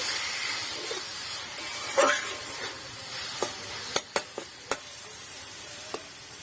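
Vegetables tossed with three mixed sauces in a pan for chow mein give a steady soft sizzle and hiss, with a few sharp clicks of the spatula against the pan near the end.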